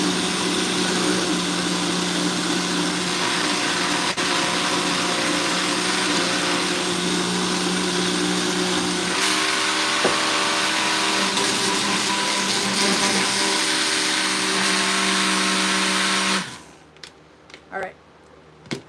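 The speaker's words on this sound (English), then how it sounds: "Done with the blender." A kitchen blender gives a loud, steady motorized whir continuously, shifting pitch partway through, then cuts off abruptly, leaving a few faint clinks and knocks.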